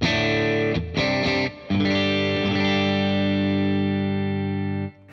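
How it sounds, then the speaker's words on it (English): An electric guitar runs through the always-on preamp of a J Rockett Clockwork Echo into an amp, giving a thick, sustained tone. A couple of strums ring out close and loud, then fade at the end. "this has got an always-on preamp, so the sound of my guitar going straight into the amp sounds like this"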